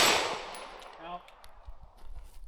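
Handgun fire on a range as a shooter finishes off a magazine, likely a Canik pistol, with a loud opening burst that decays into scattered fainter shots and range noise.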